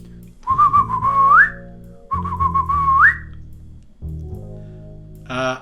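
Two rising whistled bird-call imitations, each a warbling note sweeping upward, followed by a pause and a low hum with a brief bright chirp at the end.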